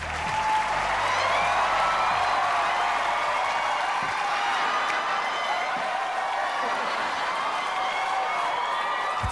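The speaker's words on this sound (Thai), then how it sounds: "ขอเสียงปรบมือต้อนรับคุณตูนครับ" Studio audience applauding steadily to welcome a guest onto a Thai TV quiz show stage, a dense, sustained wash of clapping with no talk.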